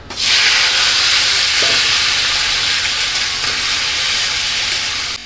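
Chopped ash gourd and potato dropped into hot oil seasoned with dried red chillies, cumin and mustard seeds, a loud steady sizzle that starts abruptly and carries on evenly without talk.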